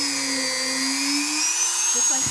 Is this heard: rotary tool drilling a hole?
yes